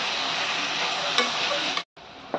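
Chopped tomatoes, garlic and green chilies get stirred in a pan, making a close, continuous scraping and sizzling that breaks off briefly near the end before resuming with a sharp scrape.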